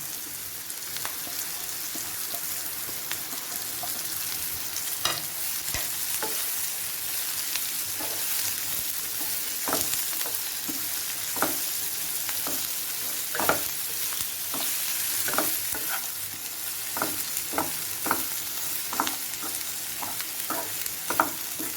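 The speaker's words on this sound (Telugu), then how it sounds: "ఇలా మెత్తబడిన తర్వాత కట్ చేసి పెట్టుకున్న క్యాబేజీ వేసుకోవాలి" Cut cabbage fries in a pan, with a steady sizzle beneath repeated scraping stirs of a spatula at an irregular, close rhythm throughout.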